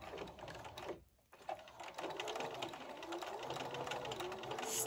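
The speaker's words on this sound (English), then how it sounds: "Using a straight stitch and a 1/2 inch seam allowance, start by back tacking at the folded corner." A sewing machine runs a straight stitch through fabric for a neck wrap, a quiet steady mechanical whir that pauses briefly near one second before resuming.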